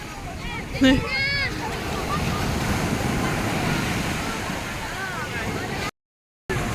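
Heavy surf rolls in continuously at Tiwi beach in Bicol, with loud, steady wave wash and wind noise. Voices talk over it and a brief shout breaks through near the start.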